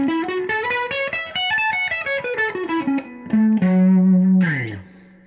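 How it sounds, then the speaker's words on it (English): An electric guitar through a Nobels ODR-1 overdrive pedal into a Fender Princeton Reverb amp plays a quick pentatonic run high on the neck, gritty and sustained, close and loud, finishing on a held note that fades out. "I'm going into my Princeton Reverb, and for overdrive, I am using a Noble's ODR1"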